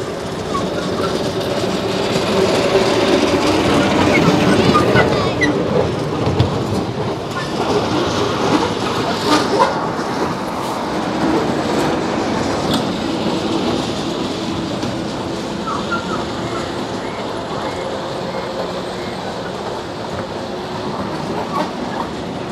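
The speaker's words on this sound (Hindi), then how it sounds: "ये इनकी ट्रेन आ रही है।" A train rolls past on the rails, a steady loud rumble with clickety-clack wheel rhythm and occasional metallic squeals, continuing for the whole stretch with faint voices in the background.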